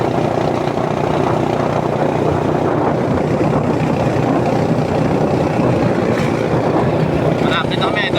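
A motorboat engine drones steadily on open water between Roxas City and Panay, Capiz, a loud continuous rumble with wind buffeting, and voices talk faintly underneath.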